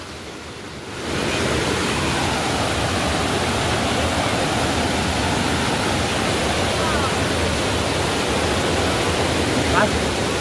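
A waterfall pours with a constant, dense rushing roar that rises after a quiet first second and then holds steady and full to the end.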